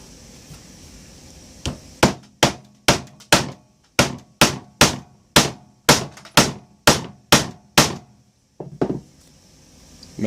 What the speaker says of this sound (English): And you can go ahead and hammer these home.